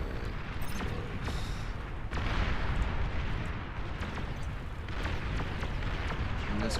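Artillery fire in a Beyond All Reason skirmish battle, a dense, continuous rumble of booms and blasts that runs throughout at steady loudness, with no speech over it.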